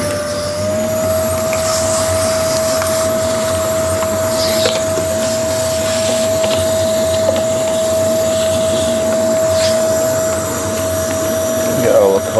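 A vacuum cleaner drones loudly and steadily inside a Rover 75 car interior, its motor whine holding one pitch, with faint bumps and scrapes as the nozzle moves around.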